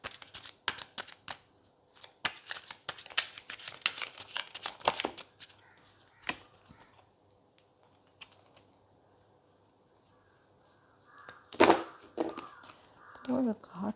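Tarot cards are shuffled in quick papery riffles and bursts, then flipped and set down with soft slaps, close and fairly quiet, with pauses and more shuffling near the end.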